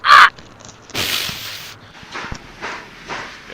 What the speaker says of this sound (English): the cameraman, I think he's getting attacked by crows